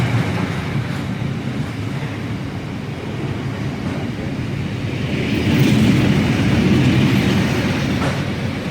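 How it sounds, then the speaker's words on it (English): A freight train rolls steadily past Reading West station, a loud continuous rumble of wagons with faint wheel clatter that swells slightly toward the end, no voices. "this is the sort of freight working that you'd miss"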